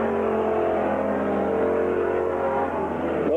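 A race car at Gasport Speedway in 1995 roars close by in one sustained, loud engine drone, its pitch sagging slightly and then climbing sharply again at the very end.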